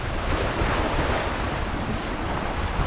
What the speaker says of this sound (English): there's a bit of a side wind, probably about 10 mile an hour